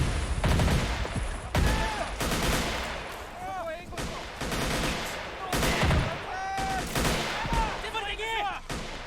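Army men soldiers in a battle simulator video game exchange gunfire on a beach, with dense continuous rapid shots and bursts layered over one another, steady and loud throughout with occasional whistling projectile sounds.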